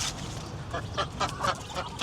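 Ducks on a home farm give several short quacks in quick succession, moderately close over a faint, noisy background.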